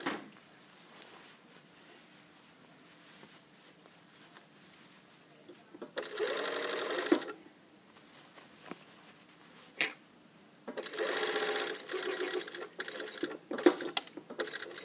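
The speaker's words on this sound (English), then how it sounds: "you can start sewing from this pin, that notch" A sewing machine stitches a blazer lapel and collar seam with a back tack, running in two distinct bursts of steady whirring separated by quiet handling pauses, close and fairly loud.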